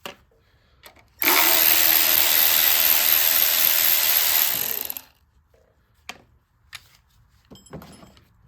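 A power ratchet spinning out 10mm bolts on a power washer's air filter box, one loud continuous buzzing whir for nearly four seconds, then a few faint clicks and taps nearby.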